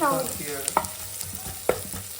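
Food fries in a pan with a soft, continuous close sizzle, broken by two sharp taps of a utensil against the pan in a brief burst, with no speech.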